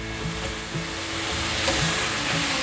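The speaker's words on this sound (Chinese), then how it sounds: "把所有调味料炒匀" Seasonings with sacha sauce, white pepper, sugar and rose salt being stir-fried in a wok, a steady close sizzle with stirring scrapes running throughout.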